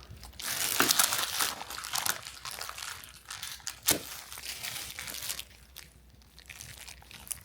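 Vinyl plastic gloves crinkling and crackling close to the mic while handling a chewy Valentine's Day cookie, irregular rustles with a few sharper crunches, fairly quiet and fading toward the end.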